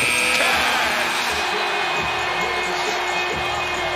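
A basketball arena crowd cheers steadily throughout, a dense, loud roar with scattered whoops and no breaks.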